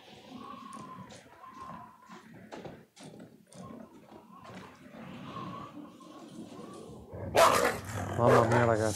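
A dog in the Until Dawn video game barks and growls in a burst of loud, rough yelps near the end, following a stretch of quieter game sounds and a voice talking.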